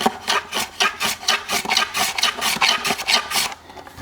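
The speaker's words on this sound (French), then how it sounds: "chanfreiner un peu plus sur l'arrière" Rhythmic back-and-forth rasping of a hand tool chamfering the edge of a wooden part for a curved staircase, about a dozen strokes close up and fairly loud, stopping near the end.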